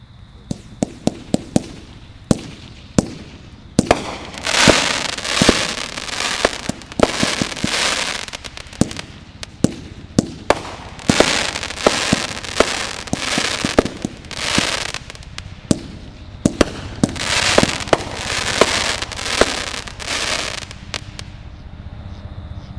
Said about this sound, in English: How about them fireworks?